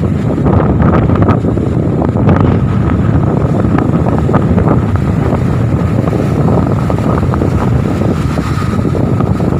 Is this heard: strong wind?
yes